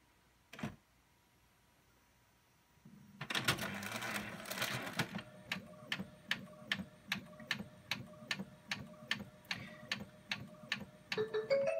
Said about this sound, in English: So I've sent it to the printer and we'll see what comes out.